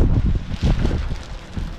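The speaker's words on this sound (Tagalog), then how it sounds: "Lakas ng hangin." Strong wind gusts buffet the microphone outdoors during sliding window installation work, a loud rumbling roar that surges and eases over a couple of seconds.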